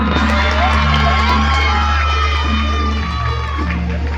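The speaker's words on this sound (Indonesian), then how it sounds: "Kasih tepuk tangan yang meriah." A school audience at a middle school inter-class fashion show contest cheers and shouts loudly and steadily, a dense crowd roar with children's voices over sustained music, easing slightly near the end.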